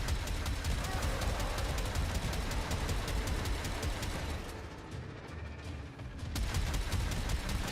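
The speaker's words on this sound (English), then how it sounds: "Shooting at the ground." Rapid gunfire from the video game Warframe pelts the ground in a dense, continuous volley of shots, briefly easing midway before resuming at full intensity.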